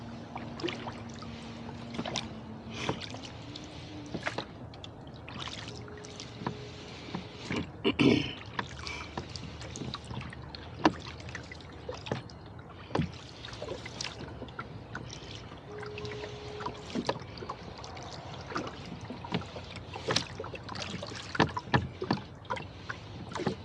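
Oars dip and pull through the water of Bodega Bay as a boat is rowed, with irregular splashes, drips and knocks of the oars against the hull, close and fairly quiet throughout.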